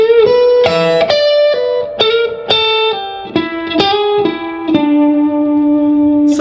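Electric guitar played through effects runs a melodic lick joining CAGED chord shapes, with a quick string of picked notes ringing into one another and ending on a longer sustained note, loud and alone.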